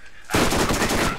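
A rapid, dense burst of submachine gun fire from a new SMG in Borderlands starts abruptly and continues as a loud, continuous rattling stream of shots.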